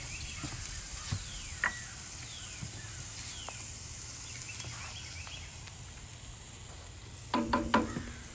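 Short ribs sear on a Big Green Egg in a faint, steady sizzle, with a few light clicks and a short clatter near the end.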